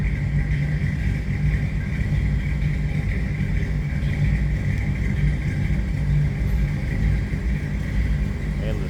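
A 1957 Buick Century convertible idles after a cold start with a low, steady rumble and a faint whining hum, constant and unchanging the whole time.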